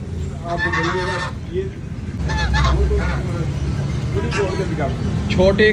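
Ducks at a pet market give loud, nasal honking calls in repeated bursts, close by, with people talking over the noise of a busy market.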